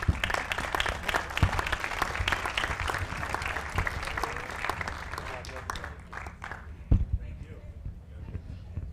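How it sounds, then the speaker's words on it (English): Audience applause in a county commissioners meeting room, a dense patter of many hands clapping fairly close, tapering somewhat toward the end with a couple of louder isolated claps. "One more round of applause."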